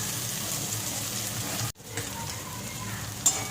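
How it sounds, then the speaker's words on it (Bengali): Bitter gourd, eggplant and onion fry in a pan with a steady close sizzle that cuts off abruptly, then resumes more softly with faint crackles and a brief clink. "উচ্ছে বেগুন পেঁয়াজ ভাজা হয়ে গেছে"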